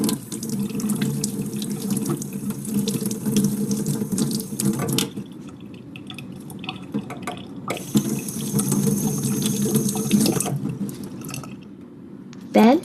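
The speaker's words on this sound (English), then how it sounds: "Rinse them under the running water to remove the dirt on the surface." Vegetables are rinsed under a running kitchen tap, a steady splashing stream into the sink that stops briefly midway and then resumes, close and fairly loud, with a clatter at the end.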